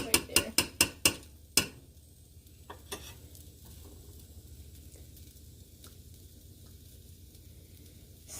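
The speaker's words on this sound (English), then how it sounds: "So just let it fry right there." Rice for a Korean vegetable stir-fry fries quietly in a pan under a low, steady sizzle, with a quick run of clinking spatula knocks against the pan at the start and a few fainter taps later.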